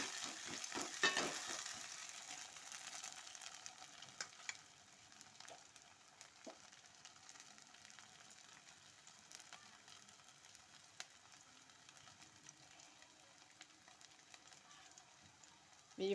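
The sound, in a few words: curry leaves stirred and frying in pan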